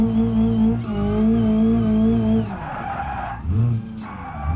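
Tires squeal loudly as a car drifts in BeamNG.drive, a long sustained screech with engine tone that falters and resumes near the end, heard close and without talking.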